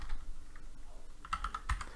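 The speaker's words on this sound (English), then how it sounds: "We would type in camera." Keystrokes on a computer keyboard while a function name is entered, faint scattered taps at first and then a short cluster of clearer clicks near the end.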